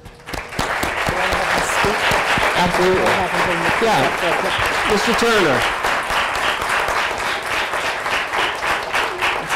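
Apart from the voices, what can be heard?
audience applause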